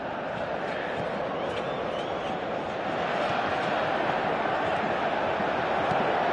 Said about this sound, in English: The crowd appreciates good football all round there.